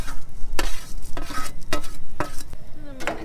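Heavy cream and bacon sauce being stirred in a hot pan, with a spoon scraping and clinking in several sharp strokes over a steady close sizzle.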